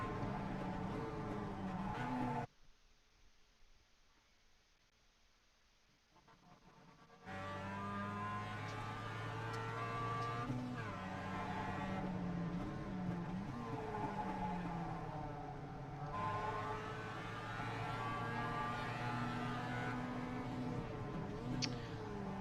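A race car circles Tsukuba Circuit in the iRacing sim with a loud, close engine whine that shifts pitch as it accelerates and changes gear. The engine drops away briefly to a quiet lull before roaring back steadily.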